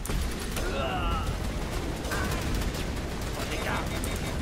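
Grenade explosions and weapon fire in the video game Mass Effect, a dense, continuous barrage of blasts and bursts under a steady game soundscape, with a voice speaking briefly over the action.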